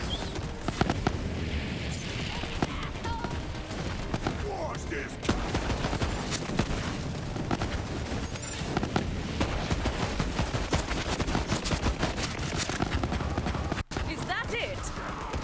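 Rapid gunfire from a player's weapon in a shooter game forms a dense, continuous rattle of shots. It holds at a steady level for the whole stretch, with a brief dropout near the end.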